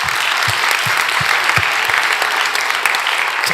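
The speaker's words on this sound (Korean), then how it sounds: "우리 하나님께 박수로 영광 올리겠습니다." A congregation at a revival service applauds, with loud steady clapping filling the room and a rhythmic low thump recurring about every half second beneath it.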